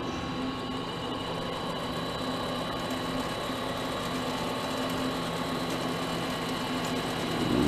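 A mini lathe making nuts runs at a steady pitch with a constant mechanical whine and hum, close and unchanging, ending in a slight swell at the end.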